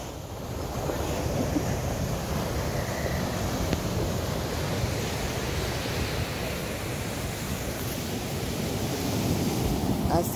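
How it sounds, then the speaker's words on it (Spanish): Ocean waves roll in at dawn at Point Mugu State Park on the California coast, a steady broad wash of surf with some wind noise, continuous and fairly loud with no distinct breaks. "Así de bello amanece el señor mar."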